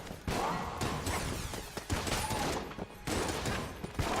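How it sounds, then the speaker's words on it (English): Rapid bursts of gunfire from the video game Enter the Gungeon fill the stretch, dense overlapping shots and impacts running nearly continuously, with a brief lull before the volley resumes. "How come it took you a million years to fire your gun, Reaper?"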